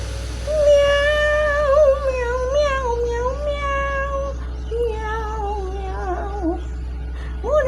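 A pet cat meows repeatedly up close, long drawn-out wavering cries with short pauses between them, loud and clear over a low steady background hum.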